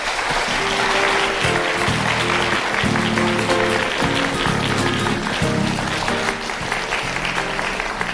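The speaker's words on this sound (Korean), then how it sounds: "여러분 정말 큰 박수 함성으로 이분을 맞아주시면 고맙겠습니다" A corporate talk audience claps and cheers to welcome a Hanwha S&C executive onto the stage, loud sustained applause with bursts of rhythmic, pulsing clapping and crowd noise beneath.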